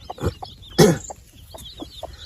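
A hen clucks close by among her newly hatched chicks in a louder burst, with softer scattered clucks and peeps spaced around it.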